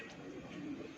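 Teddy pigeons coo softly in a low, muffled murmur, faint and close by, with no talk over it.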